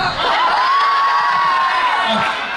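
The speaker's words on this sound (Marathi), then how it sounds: "एकदा या सगळ्यांसाठी टाळ्या वाजवा" An audience at a youth festival talent hunt erupts in loud, continuous cheering with a long shrill whistle and shouts over it, sustained for a couple of seconds before starting to fade.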